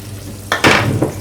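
Flour stirred into melted butter in a pan, with a brief soft scrape and hiss rising after a quiet start, then a short second scrape near the end; no voices.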